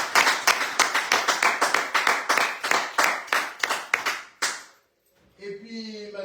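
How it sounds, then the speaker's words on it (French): An audience claps on a French radio show, Radio Bistrot. The claps are close and rhythmic, about twenty sharp, evenly spaced claps over four seconds. They stop abruptly, and a voice begins after a brief silence. "On les applaudit."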